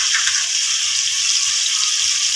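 Chicken curry fries in a pan with a steady, dense hiss of sizzling oil, close and even throughout, with no voices.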